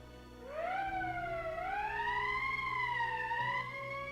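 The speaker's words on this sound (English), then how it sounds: "That's the emergency siren" A wailing emergency siren in the Valkyria Chronicles video game rises in pitch, then swoops up and down in slow, smooth waves over a faint low hum, sounding alone without talk.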